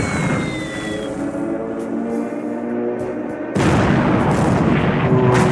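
Dive bomber bomb hits in the War in the Pacific naval combat game: a dense, loud, sustained rumble of blasts that surges louder partway through, with no talking.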